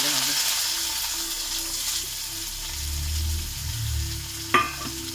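Onions frying in hot oil with salt, a moderate sizzle and stirring close by, ending in a sharp metallic clank near the end.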